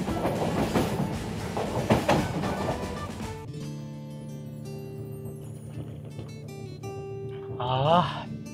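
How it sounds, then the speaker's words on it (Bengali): A passenger train bound for Gaya runs along the tracks with a loud rumbling clatter from inside the carriage. The sound then changes to steadier sustained tones, and near the end a brief squeal rises. "আর ট্রেন ছুটে চলেছে গয়ার দিকে।"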